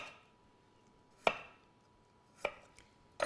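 A knife cuts the skin off a piece of ginger on a board, three sharp, distinct chopping knocks spaced about a second apart over a quiet room, with no voices.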